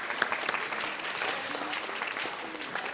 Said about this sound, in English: Make a hand of applause, everyone being here.